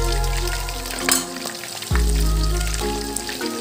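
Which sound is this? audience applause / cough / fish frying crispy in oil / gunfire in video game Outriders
fish frying crispy in oil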